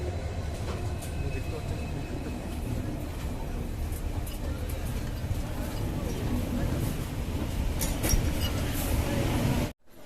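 The Saraighat Express passenger train rumbles along in a continuous low, rolling drone with rhythmic rattling from the cars, heard from inside at a steady moderate level until it drops away at the very end.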